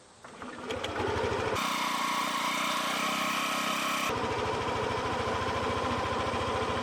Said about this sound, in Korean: 이제 시동을 걸어서 냉각 라인을 순환시킵니다.